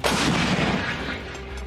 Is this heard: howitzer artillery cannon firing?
yes